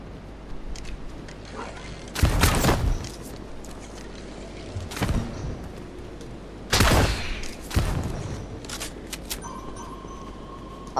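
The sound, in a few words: gunfire in video game Fortnite prop hunt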